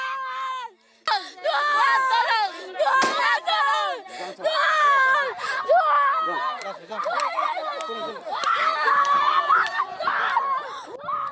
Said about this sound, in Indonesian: Dalam video amatir ini, sejumlah ibu-ibu berteriak histeris